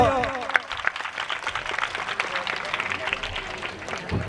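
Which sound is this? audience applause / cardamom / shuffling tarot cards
audience applause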